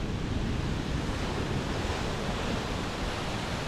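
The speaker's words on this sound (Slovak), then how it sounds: "Divoké more." Wild sea surf breaking on the coast at Cancún, Mexico, a steady, loud wash of crashing waves with wind buffeting the microphone throughout.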